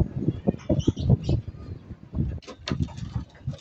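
Soft, low pigeon coos repeat in short bursts, fairly close, with a few higher chirps mixed in among them.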